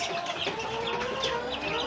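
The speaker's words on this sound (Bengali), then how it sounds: "দুই মাস বয়সী আসিল মুরগির বাচ্চা" Two-month-old Aseel chicks cluck and chirp continuously at close range, a dense, steady chatter of many birds with no talking over it.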